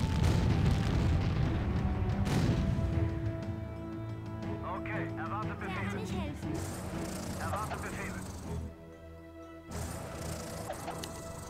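Cannon fire and explosions from the strategy video game Empire Earth boom and crash in a rumbling burst early on, followed by scattered battle effects and music while someone talks over the game.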